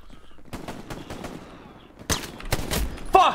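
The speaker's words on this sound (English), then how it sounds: "The shots came to the east." Gunfire in Hell Let Loose, World War II combat: scattered single shots at first, fairly near, then louder, sharper cracks in quick succession toward the end.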